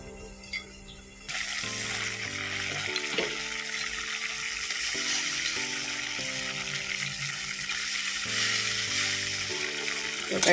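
Vegetable curry with coriander leaves cooking down in a pan gives a steady, soft sizzle that runs throughout, mixed under louder tonal background music.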